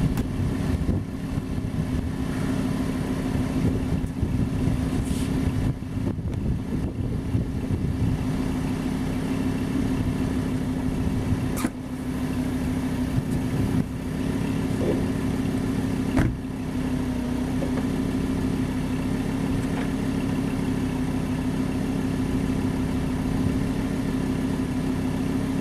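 A Lamborghini engine runs with a steady, loud low rumble throughout, holding a constant idle-like drone as the car drives over a Trezor hardware wallet, with a few sharp knocks and no speech.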